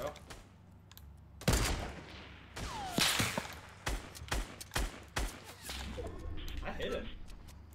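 Fortnite gunfire with a sniper in play: a loud crack, then a scattered series of separate shots and sharp hits, close and punchy, with players talking throughout.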